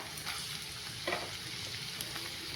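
Chopped carrots drop into hot oil for a chicken roll filling and fry with a bright, close sizzle, with a brief louder crackle partway through and no voices.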